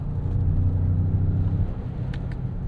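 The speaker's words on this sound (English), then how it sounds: "It's like a very deep, sort of grunty sound" A 2026 Jeep Grand Cherokee's Hurricane turbo four-cylinder gives a steady, deep, grunty engine rumble while driving. It runs loud and close without a break, and no one speaks over it.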